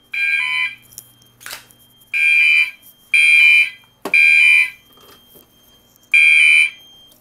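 An older Gentex fire alarm sounds during a Notifier AFP-200 panel test. Loud, repeated horn-like tones come in bursts of roughly half a second to a second, separated by short gaps and a few clanks.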